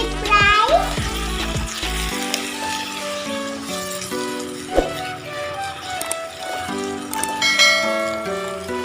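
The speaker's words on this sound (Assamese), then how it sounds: "মোৰ মাংসটো ভাজা হৈছেই প্ৰায়।" Pieces of local chicken sizzle loudly as they fry in a pan for an Assamese chicken curry, a steady crackling hiss broken by occasional clanks of a utensil against the pan.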